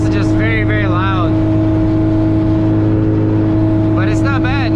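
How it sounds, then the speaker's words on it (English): Loud, steady exhaust drone from an all-motor EF hatchback being driven, a constant low rumble with engine harmonics filling the whole stretch, and brief higher whines near the start and end. "the exhaust is just very, very loud"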